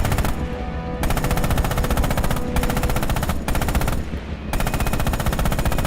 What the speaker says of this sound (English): Use the hull MG and open fire on the targets.